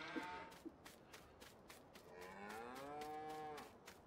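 Cattle in the Farming Simulator 19 game low in a barn, one long drawn-out moo rising and falling in the middle, with faint shuffling and small clatters around it and no speech.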